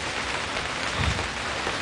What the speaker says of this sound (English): kind of get annoyed that it's raining this much